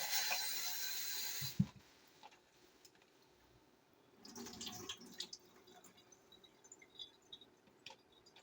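Tap water runs loudly over tripe being rinsed for about a second and a half, then cuts off, leaving quieter clatter and handling noises in a kitchen.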